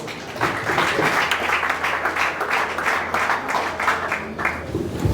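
A church congregation applauds during a worship service, with a thick wash of hands clapping at full, steady volume from start to finish.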